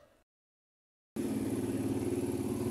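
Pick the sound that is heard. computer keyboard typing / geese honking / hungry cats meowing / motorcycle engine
motorcycle engine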